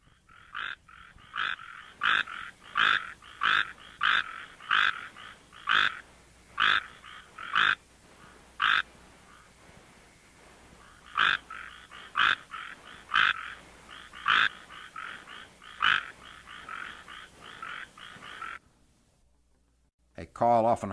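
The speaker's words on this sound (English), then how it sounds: "This is a mating call of Hyla microeximia, recorded near Tepic in the state of Nayarit," Mating call of the tree frog Hyla microeximia near Tepic, Nayarit, Mexico: a long series of short, evenly spaced clicking notes, close and clear, with a brief pause mid-sequence before the calls resume, then silence.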